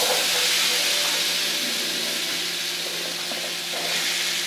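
Apples sizzling in browned butter in a pan for a caramelized apple pie filling, a steady loud frying hiss throughout with a faint low hum underneath and no talking.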